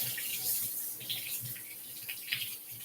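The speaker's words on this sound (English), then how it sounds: "Let's see if I've got warm water in my sink here." Steady rush of tap water pouring into a sink, a continuous broadband hiss with soft splashing, close by and without speech.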